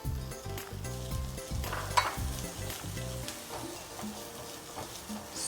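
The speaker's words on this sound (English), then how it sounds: "To this, I'm going to add my chopped onions." Chopped onions and garlic sizzle steadily in a pan, with a few stirring clinks and scrapes over the continuous frying hiss, set against a low background hum.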